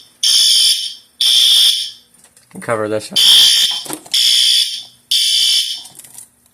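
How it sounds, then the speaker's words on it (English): Loud Notifier fire alarm horns blare in long repeated bursts with short gaps during a panel test, while someone speaks briefly between blasts. "The horn is okay. And these things are very loud."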